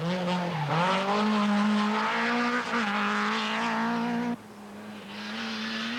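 Nissan 240 RS rally car racing through a special stage of the 1982 Welsh Rally, engine screaming loud and close with shifting revs, tyre squeal and skidding, then a sharp drop as it moves away.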